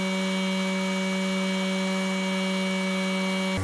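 Homemade air cooler fan running steadily with a constant electric motor hum and hiss, close and loud, then switched off abruptly near the end.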